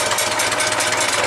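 A 1975 International 574 tractor engine turns over with a rapid, even mechanical chugging, loud and close, continuing steadily through the short stretch with no voices.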